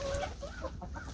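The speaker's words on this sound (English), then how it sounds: "That's a nice scene for chickens in the winter in a cold climate, to be sure." Hens cluck and murmur steadily inside a winter chicken coop in a cold climate, a continuous close flock chatter with rising and falling calls over a noisy background.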